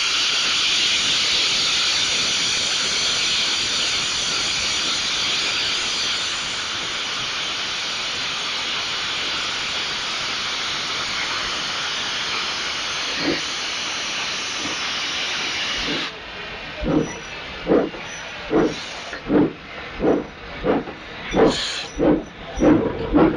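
Steam locomotive safety valves blowing off in a loud, continuous broadband hiss that runs steadily for about sixteen seconds, then gives way to a rhythmic series of chuffing exhaust beats as the engine works.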